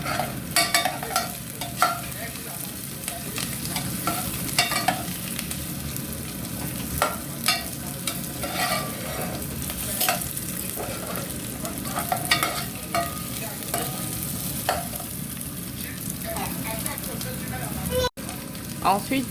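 Meat sizzles steadily in a hot pan for a potato couscous, with scraping stirring strokes and occasional clinks over a continuous crackling hiss, close and fairly loud throughout.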